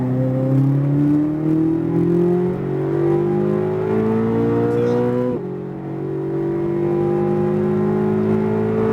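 A Corvette Z06 accelerating hard on a race track, its engine rising steadily in pitch from inside the car, then a brief drop at a gear change before it climbs again, loud and continuous.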